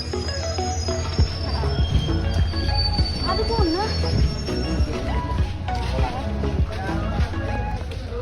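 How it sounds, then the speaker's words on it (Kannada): A passenger train running on rails with wheels squealing in long, loud, high-pitched screeches over a steady rumble, heard from onboard a carriage during a trip from Bagalkot to Dandeli, with voices talking underneath. "ಅಲ್ಲಿ ಟ್ರೈನ್ ಬಿಟ್ಬಿಡ್ತೀರಿ"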